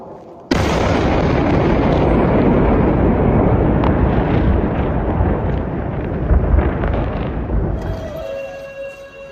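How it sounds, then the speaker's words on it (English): A missile strike in central Tel Aviv erupts as a sudden loud blast, followed by several seconds of heavy rumbling roar and wind-buffeted noise that gradually fades. "some footage obtained exclusively by CBC of a missile strike in central Tel Aviv the other night"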